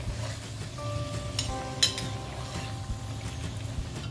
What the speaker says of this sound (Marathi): आपले बटाटे तळण्यासाठी आपल्याला 4 मिनिटांचा वेळ लागलेला आहे